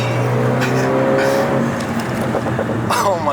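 Renault Megane RS turbo hatchback pulling hard under full acceleration, a loud, steady engine drone with rising harmonics from inside the car, continuous for a few seconds with faint wind and road noise.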